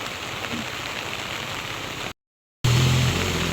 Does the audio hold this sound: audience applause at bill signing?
no